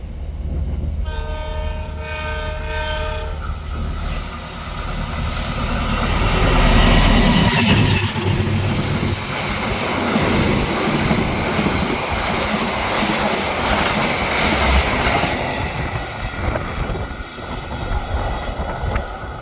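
A train rolls past nearby at Cikampek, Indonesia, opening with a loud horn blast, then a sustained roar and rhythmic clatter of wheels that slowly fades.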